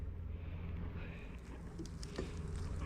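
Honey bees at an opened hive in spring, recently moved for the summer, make a dense, continuous buzzing hum that holds steady throughout, close and fairly loud.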